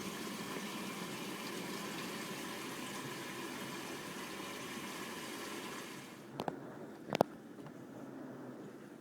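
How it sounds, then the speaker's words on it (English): An LG WT1101CW top-load washer fills its drum with water, a steady low rushing gush that drops off near the end, followed by two sharp clicks. "right now the drum's half full of water. And it's spinning around there pretty good."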